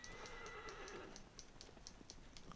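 Horse in the video game Shadow of the Colossus, a faint whinny at the start followed by a quiet, regular clip-clop of hooves under a low ambient backdrop.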